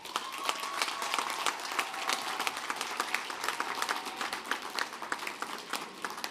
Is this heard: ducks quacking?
no